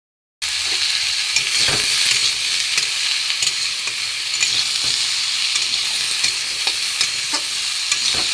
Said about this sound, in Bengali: এবার আমি এটাকে একটু নাড়াচাড়া করব, ভাজবো ভালো করে।